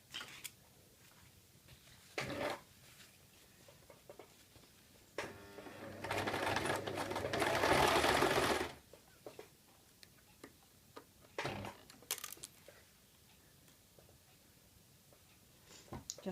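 A sewing machine stitches the hem of a circle skirt in one steady run of a few seconds, quiet and close, with scattered ticks and fabric handling before and after.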